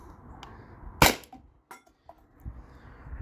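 A single sharp crack from a .50 or .68 caliber air rifle shot at a can target stands out in the quiet outdoors, followed by a few faint clicks and small knocks.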